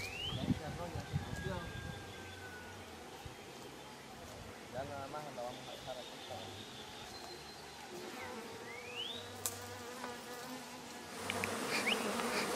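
A swarm of honeybees buzzes steadily around a large rescued honeycomb, dense and continuous throughout, with birds chirping now and then in the background and a louder rustle near the end.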